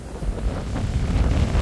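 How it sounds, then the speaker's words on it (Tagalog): Strong wind buffeting the microphone outdoors in Australia, a steady loud rumbling roar with gusty swells and no talking. "Pero lakas talaga ng hangin."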